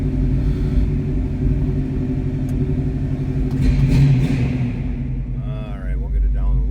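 A 1965 Ford Mustang with a 289 V8 runs with a deep, steady rumble, settling down toward a low idle; the engine stays continuous and fairly close throughout.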